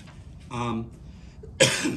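A voice makes a brief vocal sound, then a sharp, harsh cough bursts out near the end, close and loud.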